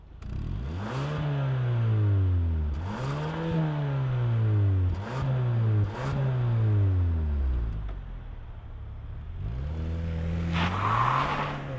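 A 2025 Kia K5 GT in pearlescent white fires up and revs hard, its engine climbing and falling through four loud rising sweeps, a brief settle, then one more rev near the end, all close and with no talking.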